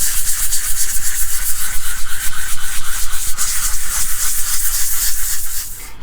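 Steady back-and-forth hand sanding across a guitar's finish while level-sanding a six-string multi-scale build, a close, continuous rhythmic scratching rub with even strokes throughout and no talk.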